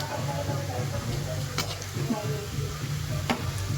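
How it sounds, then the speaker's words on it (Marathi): Gulab jamun fry in hot oil, giving a steady close sizzle with a low bubbling hum and an occasional soft clink of a utensil, while a voice speaks faintly in the background. "आणखी तळत आहेत."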